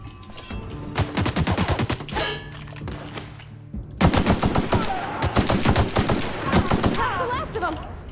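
Shotgun blasts fired at a bomb in The Outer Worlds come as loud, sharp bursts of shots with a short lull midway, then heavier firing again, and a voice comes through briefly near the end.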